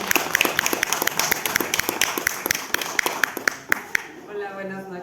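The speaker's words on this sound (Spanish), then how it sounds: "es un aplauso para los participantes" Audience at a book presentation in a bookstore gives brisk, steady applause for the participants, dense clapping that fades out into a quiet room.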